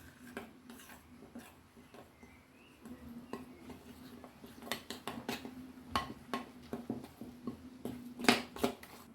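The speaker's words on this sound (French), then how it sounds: "Je mélange." Polenta cake batter with almond powder being mixed in a bowl, scattered clinks and taps of a utensil against the bowl over a low hum, sparse at first, then quicker and busier.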